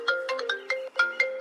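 Phone ringing with a melodic electronic ringtone, a repeating pattern of bright tonal beeps that plays loud and close with no talk over it.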